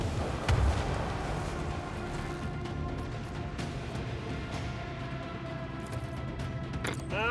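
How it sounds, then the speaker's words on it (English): Macro cannons fire in the space-combat video game Rogue Trader, a low, rumbling barrage of heavy booms with a sharp blast near the start, sustained and moderately loud with no talk. "Macro cannons. Annihilate them. Boom, boom, boom."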